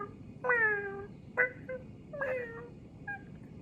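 A person vocally imitates a cat, making four meow-like calls of varying length, fairly close and quiet, with pauses between them over faint background noise.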